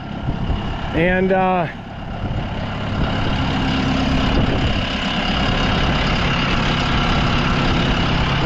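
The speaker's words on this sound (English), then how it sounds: "Let's turn on the PTO" A tractor runs with its power take-off engaged while fertilising a small sweetcorn plot, giving a steady, loud engine drone throughout, with a brief harmonic whine near the start and a voice speaking over it.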